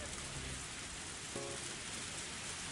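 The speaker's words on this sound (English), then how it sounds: "the percussion of the rain on the roof and the soft squeak of the windshield wiper" Steady rainfall pours down in a Higurashi visual novel scene, beating on a car roof as a continuous hiss of drops, with brief faint tonal sounds barely rising above the downpour.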